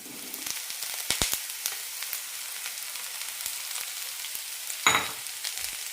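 Sliced bitter gourd dropped into hot oil with browned shallots in a Kerala-style stir fry, bursting into a steady sizzle with a few sharp crackles and a louder hiss as more goes into the pan.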